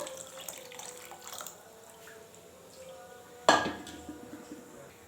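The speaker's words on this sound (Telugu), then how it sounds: "తగినంత వాటర్ వేసేసుకుందాము" Water is poured into a pot of toor dal for a village-style green chilli dal, with soft kitchen sounds giving way to a sudden loud splash near the end, then a trickle.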